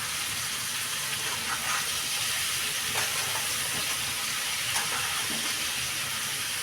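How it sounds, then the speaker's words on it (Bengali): Bottle gourd and crab fry in a pan, giving a steady broad sizzle and hiss with a few faint pops, constant and close throughout with no talk. "আমি কাঁকড়াটার সঙ্গে লাউটাও কষিয়ে নেবো"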